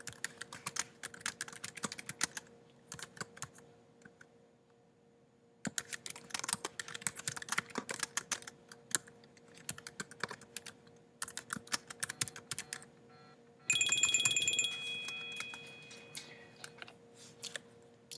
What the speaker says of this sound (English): And then I type whatever I want to say.